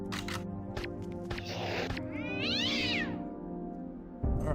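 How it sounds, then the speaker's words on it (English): A cat meows and caterwauls repeatedly in the Deus Ex: Revision video game, several drawn-out, wavering cries close by over a steady game soundscape, with a sharp bump at the end. "Ooh, a kitty."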